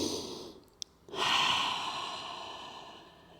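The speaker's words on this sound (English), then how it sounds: "just trying to breathe deep breaths into this pose" A person breathes deeply while holding a yoga pose in a home workout, with a long, close exhale that swells in after a brief pause and then slowly fades.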